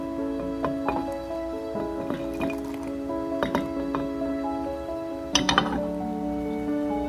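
Green beans drop into a pot of boiling salted water, a series of wet splashes and clinks, with a bigger plunge near the end, over a steady bubbling simmer.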